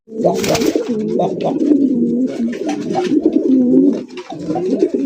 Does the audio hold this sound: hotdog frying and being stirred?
no